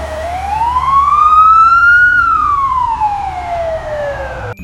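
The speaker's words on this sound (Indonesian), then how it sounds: "Wadidaw, ternyata mobil ambulans." A toy ambulance wails with a single loud siren tone that rises, peaks and slides back down, close and alone without talk.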